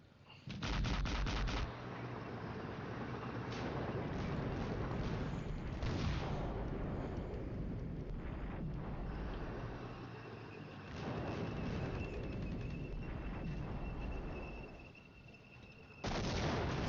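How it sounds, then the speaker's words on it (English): Enemy artillery shells landing in a war video game, a long stretch of dense, rumbling blasts and gunfire at steady loudness, with sharper bursts near the start and end and no talking. "So that's our enemy artillery falling on some of these, on where these scouts were."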